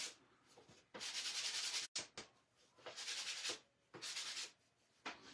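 Rhythmic sanding of painted wood edges, several long rasping strokes with brief pauses between them, close and fairly loud, no voices.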